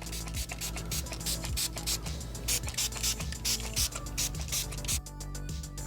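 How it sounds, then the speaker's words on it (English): A spray bottle pumps alcohol onto model railroad ballast in quick repeated trigger squirts, each a short wet hiss with a faint mechanical click, close and fairly loud. "So we're going to secure this with spraying it with alcohol first."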